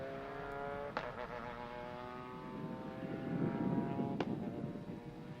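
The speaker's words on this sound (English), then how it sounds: "She is trying to restart the engine." A TCR touring race car during a qualifying session at Velocitta in 2025 as its engine is restarted, with a steady harmonic mechanical whine that builds into a louder, rougher roar and two sharp clicks, no voices.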